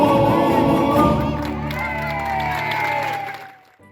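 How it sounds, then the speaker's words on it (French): A crowd at a street festival in Tenerife applauds and cheers loudly after a song, with dense clapping and whoops over a fading musical chord that drops away into quiet at the end. "Après ces jeunes applaudissements"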